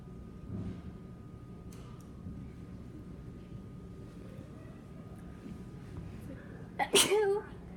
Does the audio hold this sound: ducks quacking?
no